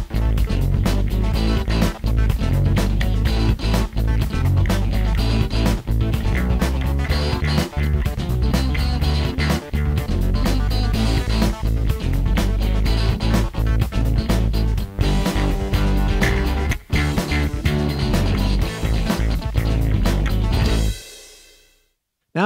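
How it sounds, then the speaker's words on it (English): GarageBand track built from a drum loop, a pair of rhythm guitars, a synth clavinet and bass, playing as a dense, steady groove for about twenty seconds before cutting off abruptly, with no talking. "I've got a short piece that started with a GarageBand drum loop, on top of which I added a pair of rhythm guitars"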